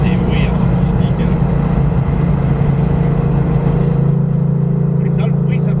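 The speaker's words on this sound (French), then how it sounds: "c'est parce que c'est une ligne inox avec collecteur long complète" Car engine with a complete stainless long-header exhaust line droning loudly and steadily with a deep, throaty hum, close by and continuous; people talk over it.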